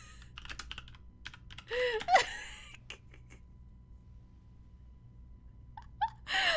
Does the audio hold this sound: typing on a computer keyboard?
yes